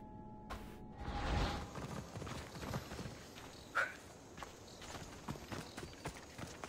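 Horse hooves clip-clopping on the ground in Assassin's Creed Odyssey, a steady run of soft hoofbeats, fairly faint, under a whoosh and game ambience.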